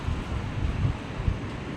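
Strong wind buffets the microphone at an outdoor roadside watermelon stall, a steady low rumble with irregular gusts, with no voices heard.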